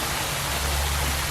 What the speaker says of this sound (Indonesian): Kita lihat air terjunnya.